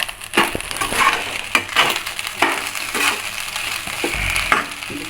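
Peanut garlic rice being stirred and mixed with salt by hand or spoon, giving soft crunchy scrapes and gritty rustles in uneven bursts, close and moderately loud with no talking.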